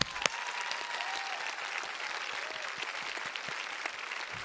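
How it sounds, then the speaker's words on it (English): A graduation audience at Lincoln College Preparatory Academy's 2021 ceremony claps in a steady, dense round that carries evenly through the whole stretch, with a few faint voices in the room. "Let's give them a round of applause."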